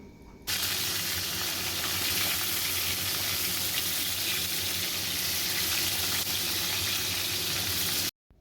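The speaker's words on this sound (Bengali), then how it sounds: "নুন এবং হলুদ মেখে রাখা পটলগুলোকে আমি ভেজে নেবো" Pieces of pointed gourd, coated in salt and turmeric, fry in hot mustard oil with a loud, continuous sizzle that starts abruptly and holds steady until it cuts off at the end, with no voices.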